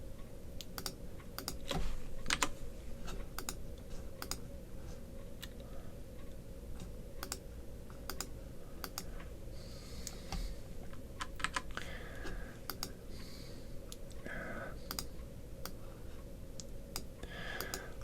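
Someone types on a computer keyboard during a tabletop wargame playtest, a close run of irregular clicks and key taps over a steady low hum, with no talking.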